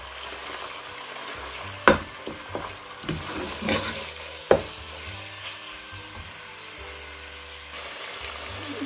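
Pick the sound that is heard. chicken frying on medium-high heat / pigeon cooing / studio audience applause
chicken frying on medium-high heat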